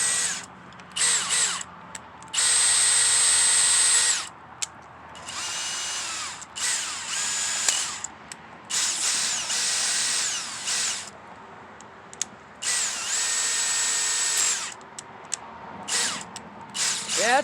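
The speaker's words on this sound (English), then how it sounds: "it's a drill or a driver" Dewalt 12V cordless drill from an Extreme series kit running in repeated bursts of a few seconds each, steady high whine while spinning with short pauses between runs, close and fairly loud.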